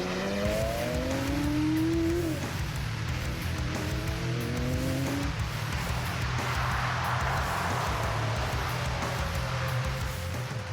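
A Porsche race car, one of two identical black and silver cars, speeds past at high speed with a strong engine roar, rising and falling pitch sweeps, and a brief tire squeal, loud and continuous throughout.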